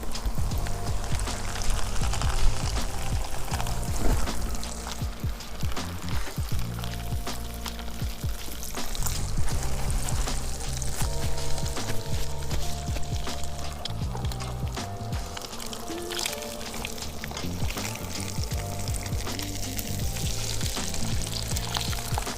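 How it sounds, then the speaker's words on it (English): Battered whole lake fish frying in a pan of hot grease outdoors, a steady loud sizzle and crackle with bubbling pops running throughout, close by and with no talk over it. "We're gonna drop them in the grease."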